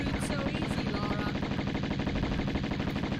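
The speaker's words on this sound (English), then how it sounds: "So she's just resorted to firing darts at me now" Dense, steady rapid-fire shooting in a Tomb Raider game fight with Natla, a continuous mechanical rattle of loud repeated shots with no let-up.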